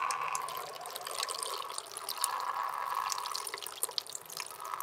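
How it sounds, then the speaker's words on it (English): A person urinates into a toilet in an abandoned church, making a steady trickling, splashing stream of water that runs for several seconds, close and continuous. "I'm having a piss, so."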